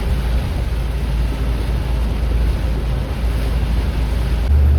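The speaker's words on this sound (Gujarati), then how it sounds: "વરસાદ જ એટલો પડે છે" Heavy monsoon rain on a road broken apart by the downpour, with a car pushing through deep floodwater, a loud continuous rushing roar of water and wind noise across the microphone, without a break and without voices.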